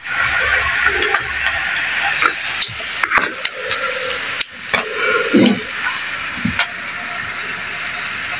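Onions fry in a pan in a Nepali village kitchen. A loud, steady hiss runs throughout, broken by scattered clinks and clatters of utensils, and no one speaks.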